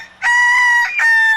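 A rooster lets out a loud, close cock-a-doodle-doo crow on a home farm with many chickens, one sustained call with a brief break before its final note.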